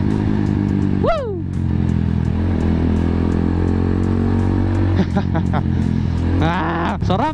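A Kawasaki Z200 motorcycle with an oil leak drones steadily while being ridden, its engine tone holding close and loud throughout, with a couple of brief whooping vocal exclamations over it.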